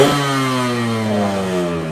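A Yamaha RX-100 motorcycle engine, just kickstarted, revs up sharply and then settles, its buzzy note falling steadily over a couple of seconds, close and alone.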